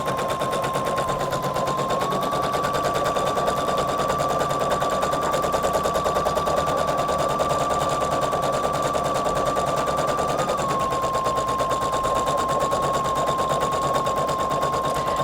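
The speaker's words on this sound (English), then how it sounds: "I'm going to start sewing the embroidery designs on top of this little star" A Husqvarna Viking embroidery machine stitches designs onto felt, a rapid continuous mechanical rattle with a steady whine running close and unbroken throughout.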